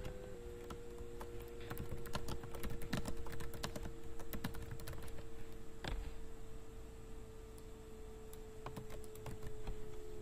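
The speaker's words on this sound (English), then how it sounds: "So I'm going to type in hello world baby" Steady typing on a computer keyboard, entering text into a website builder product listing, with rapid irregular key clicks running throughout at moderate volume under a faint constant hum.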